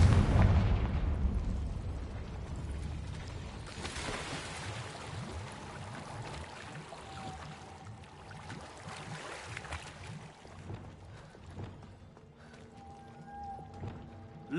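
Confringo blasting-spell explosions in a Harry Potter video game: a loud close blast opens, followed by further booming bursts and rumbling debris that slowly fade, with no talking.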